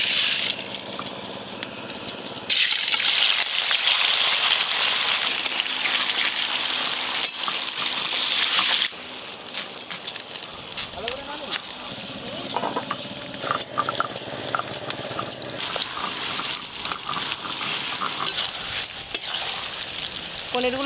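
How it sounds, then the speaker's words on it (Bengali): Paneer cubes fry lightly in salted oil in a pan, a loud continuous sizzle with bursts of spattering and occasional stirring and clinking nearby. "পনিরগুলো খুব হালকা করে ভেজে নেবো।"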